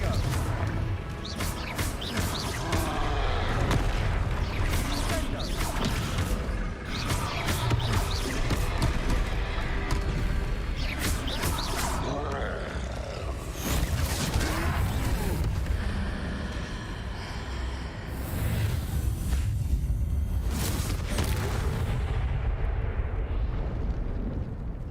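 Confringo spell explosions in Hogwarts Legacy during a troll fight, a long run of loud, booming blasts and crashes following each other almost without pause, close and heavy, with game sounds layered throughout.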